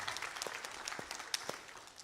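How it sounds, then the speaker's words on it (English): Light audience applause at a conference panel session, a thin, quiet patter of scattered claps with a few sharper hits, heard at some distance. "Clap up for that."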